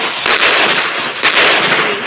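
An explosion blast in the Indian Bike Driving 3D mobile game crackles in two loud, close bursts, each a sharp pop followed by a sizzling, firework-like spray.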